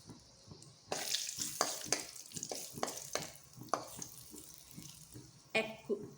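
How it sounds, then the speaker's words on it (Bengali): Whole spices (bay leaf, cinnamon, cardamom and cloves) sizzle in hot oil in a pan for a spicy egg curry, a steady crackling hiss with sharp bursts and stirring scrapes, fairly close and without talk. "এর মধ্যে এখন দিয়ে দিচ্ছি কিছু ফোড়ন, তেজপাতা, দারচিনি, এলাচ, লবঙ্গ।"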